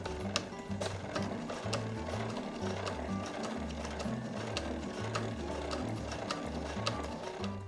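A sewing machine stitches slowly around a curve while sewing a gusseted body bag, its needle thumping in short, uneven bursts with brief pauses between runs, close and steady with a light mechanical clatter.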